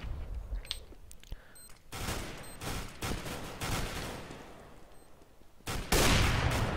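Rapid bursts of gunfire from a competitive Counter-Strike: Global Offensive match on de_mirage, with loud repeated shots, a heavy volley near the end, and a steady game ambience between them.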